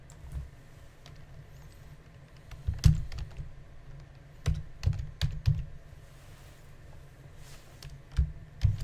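Keys clatter on a computer keyboard in irregular bursts, with clustered keystrokes and short pauses between, close and fairly quiet against a faint room hum.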